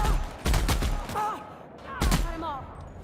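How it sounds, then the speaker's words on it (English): A few sharp gunshots from The Outer Worlds video game, brief bursts near the start and again around two seconds, mixed with in-game voices and a speaker talking. "I might have shot my own people there."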